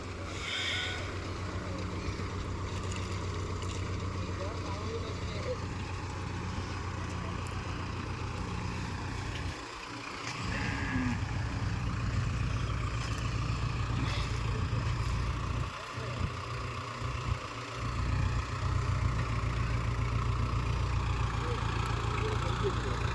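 A Kubota MU4501 tractor engine runs smoothly at a steady, close, continuous drone while moving into a field, with a person talking over the engine throughout.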